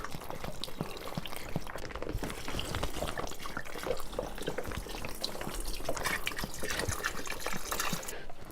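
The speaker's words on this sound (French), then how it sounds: "Donc allez, on vide la bouteille." Liquid pours and trickles steadily from a bottle into a travel laundry bag, a continuous close gurgling stream with small splashes lasting several seconds.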